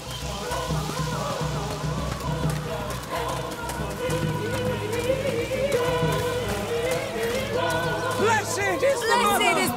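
Crowd hubbub in the video game A Plague Tale: Requiem, a steady murmur of many voices with a hissing, rain-like wash, growing a little louder toward the end.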